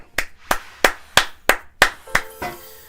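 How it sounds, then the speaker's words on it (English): Hands clap in a steady, even rhythm, about seven or eight crisp claps close up during a Pokemon TCG Pocket gaming stream, with no talking over them. "we got to give a round of applause to EV Gamer"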